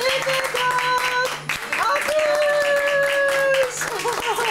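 Clapping breaks out at a child's birthday party after the song, mixed with children's voices and chatter, the claps sounding close and uneven against the lively room noise.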